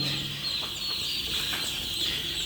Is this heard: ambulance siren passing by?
no